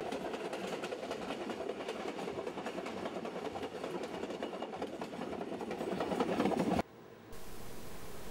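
A train in Peru rumbling along the rails with a steady rhythmic rattle, fairly close, then cutting abruptly to a quieter hiss.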